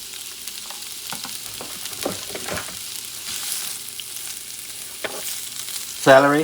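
Shrimp pancit bihon frying in a pan crackles softly and steadily, then swells into a louder sizzle near the end as carrots are added; a voice speaks briefly.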